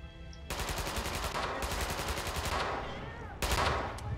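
Rapid automatic gunfire rattles in long, dense bursts in Red Orchestra 2, set in the snowy Winterwald on the Territory mode. One long volley is followed after a short pause by another, close and loud.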